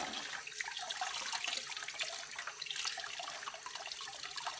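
Hot water running from a tap fed by an EcoSmart Eco 8 electric tankless heater, a soft continuous trickling flow with faint fluctuating splashes, fairly quiet and steady.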